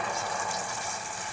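Leftover dal water pours steadily into a pressure cooker, a loud, close, continuous splashing rush with no pauses.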